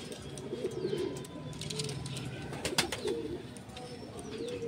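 Madrasi pigeons in a loft in Kharagpur coo in low, rolling phrases that repeat near the microphone, with a few chirps and a sharp knock partway through.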